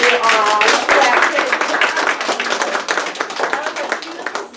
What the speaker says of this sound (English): Then we all clap